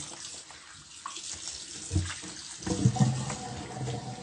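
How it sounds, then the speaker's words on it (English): Thawed frozen meat rinsed under a running kitchen tap, a steady splashing water stream with occasional louder gushes and handling thumps near the end. "We'll make sure this is well rinsed."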